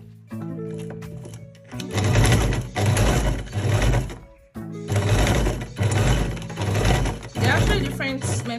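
Sewing machine stitching a cargo pocket in two loud, steady bursts of rapid mechanical running, with a short pause between them and no talk over the motor.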